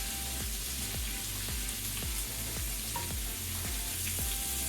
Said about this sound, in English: We're going to go ahead and add the butter.